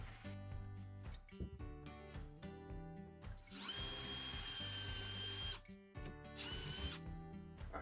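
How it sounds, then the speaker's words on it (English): A power drill whirs in short bursts, then runs in two longer, high-pitched stretches drilling test holes into a wall, close and loud. "I'm just going to go ahead and drill a couple holes here as a test"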